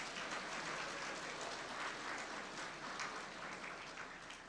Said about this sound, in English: I want you all just to give yourselves a round of applause